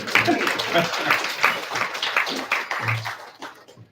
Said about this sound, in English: I think we give him a round of applause for that